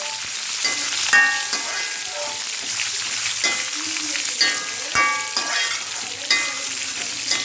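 Vegetables for a chutney sauté in a pan, a steady close sizzle and frying hiss running throughout with occasional scrapes and clinks of stirring, no voices.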